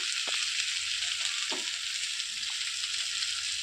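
Turmeric and other powdered spices sizzle steadily in hot oil in a pan, a continuous bright hiss with a few soft stirring scrapes and clicks, close and clear without talk.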